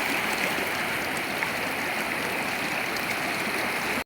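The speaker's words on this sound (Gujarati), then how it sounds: "જો દેરાળા ગામની મહાનદીઓ ફૂલ પાણી જાય છે નદીમાં" A flooded river at Derala village rushes past in full spate, giving a steady, unbroken roar of churning water that stays even and loud throughout.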